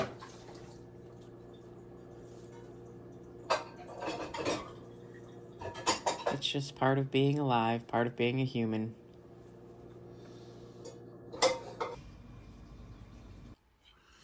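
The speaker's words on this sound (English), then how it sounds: "Keeping up with dishes is," Dishes being washed at a sink, with soft clinks of dishes and cutlery and a short burst of running water in the middle, while a person talks over it.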